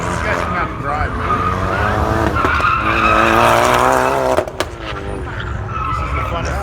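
Car spinning donuts on an autocross course at the Goodguys Del Mar car show, its tires squealing in a long continuous skid over a droning engine, loud and close, with a brief dip near the end and crowd voices mixed in.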